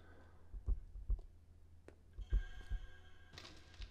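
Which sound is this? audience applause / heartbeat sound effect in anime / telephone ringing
heartbeat sound effect in anime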